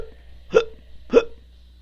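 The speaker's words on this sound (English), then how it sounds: "Hiccups like a motherfucker." A person hiccups twice, two sharp close hiccups roughly half a second apart against a quiet background.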